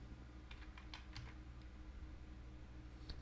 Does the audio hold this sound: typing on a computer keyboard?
yes